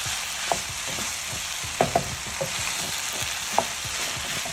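Cooked rice is tossed and stirred in a hot wok for Chinese fried rice, giving a constant hiss of frying with spatula scrapes and knocks at irregular intervals, close up and with no talking.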